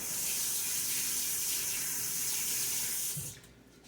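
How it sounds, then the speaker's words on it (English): Tap water runs strongly into a kitchen sink while a spoon is rinsed, a steady close hiss and splash that cuts off abruptly near the end. "Rinse off my spoon."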